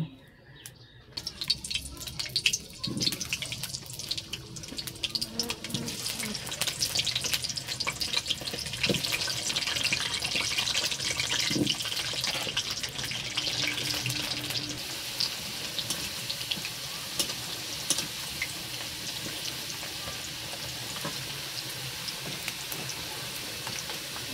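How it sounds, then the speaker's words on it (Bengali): Potatoes fry in a pan, a steady, close hiss and sizzle that starts after a quiet moment and carries on for the whole stretch, with occasional small pops and crackles and fainter background clinks. "প্রথমে আমি আলুটা ভেজে নেব।"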